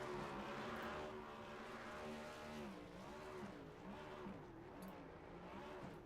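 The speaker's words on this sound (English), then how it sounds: "Doing his burnouts." A NextGen Cup stock car doing burnouts in a racing video game at a desert track, its engine roaring steadily with the pitch swelling and dipping as the revs rise and fall.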